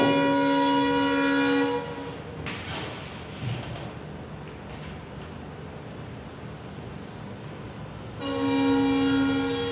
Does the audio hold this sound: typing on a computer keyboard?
no